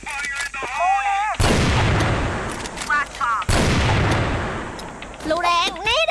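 Video game combat: two loud, close bursts of gunfire and explosions, one of them a grenade, crash in between stretches of a voice speaking.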